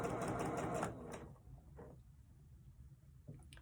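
A sewing machine stitches cotton fabric for a cross body bag in a steady, close whirring run for about a second, then stops, leaving faint clicks and handling sounds.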